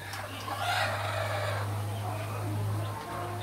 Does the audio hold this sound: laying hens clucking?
yes